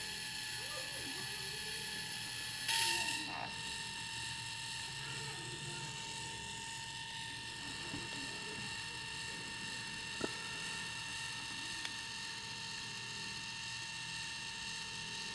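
A steady mechanical whir and hum from a Canon Ivy instant photo printer printing on HP Zink paper runs throughout, with a brief louder burst early on and a couple of faint clicks.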